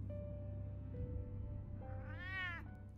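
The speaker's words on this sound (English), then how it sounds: "Hello, kitty cat." A cat in Batman: The Telltale Series gives one clear, rising-then-falling meow near the end, heard close over a steady low game ambience with no talk.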